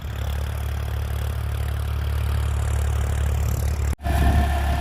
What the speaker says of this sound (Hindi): तो ट्रैक्टर चल रहा है